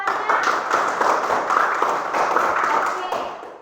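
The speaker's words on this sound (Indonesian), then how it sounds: "kita tepuk tangan untuk Fania" Primary school class clapping for a student during a lesson, a short burst of lively close-up applause from a small group of children lasting a few seconds.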